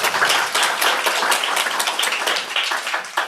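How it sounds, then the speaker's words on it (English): Conference audience applauding panelists after an energy-transition discussion, a brief burst of dense clapping at moderate volume that holds steady for a few seconds. "A round of applause for our panelists."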